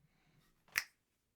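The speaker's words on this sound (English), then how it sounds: "Snap and point. Finger snaps." A single sharp finger snap, close and crisp, in an otherwise quiet room.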